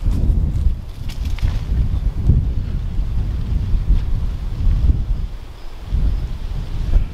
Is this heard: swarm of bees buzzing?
no